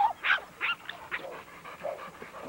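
A two-year-old pit bull stud dog in a kennel yard panting close by, quick rhythmic breathy huffs repeating steadily with faint whimpery edges.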